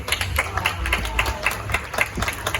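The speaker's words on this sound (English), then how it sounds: "please clap for me" Crowd clapping for a speaker at a media association event, a brisk run of hand claps at moderate distance, steady for a couple of seconds.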